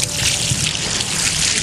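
Water poured from a bucket onto a man's face during a waterboarding demonstration: a steady, loud rush of splashing liquid lasting under two seconds, close and without speech.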